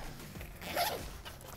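Zipper on a camera bag pulled open in one quick close rasp, rising and fading within a second, alone and fairly quiet.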